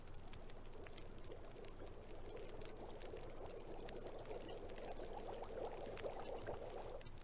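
Water boiling over a stove fire in The Long Dark gives a steady, soft, bubbling hiss that runs on without a break, faint and unbroken, with no voices.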